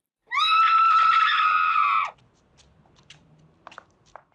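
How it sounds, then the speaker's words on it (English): A woman's piercing scream from the 1972 thriller film Frenzy, one sustained high shriek lasting nearly two seconds, loud and alone, followed by quiet background rustles. "Really, they heard Monica scream,"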